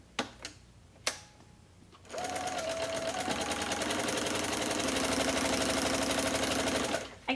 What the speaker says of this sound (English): this time we're gonna sew on this side of the line.